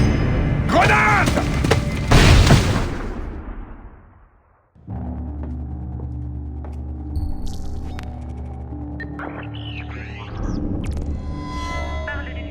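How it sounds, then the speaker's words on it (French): A loud grenade blast in a video game, a heavy broadband boom and crash that decays into a brief silence, then a low rumbling ambience with electronic tones and beeps; speech is present. "Grenade!"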